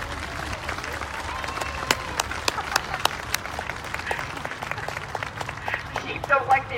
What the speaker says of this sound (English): Sheep don't like the applause, but keep it up.